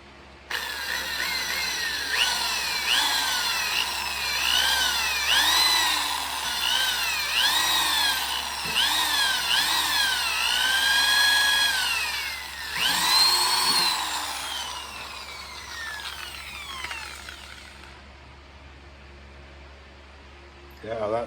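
A power drill bores a tight hole into a stone carving model, the motor whining up and down in repeated bursts over about fifteen seconds, close and fairly loud, with someone talking between runs.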